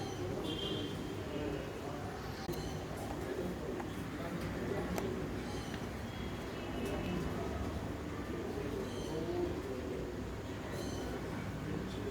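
A racing pigeon at a Coimbatore race loft gives soft, repeated low coos over a steady murmur of ambient noise, with faint chirps from other birds mixed in.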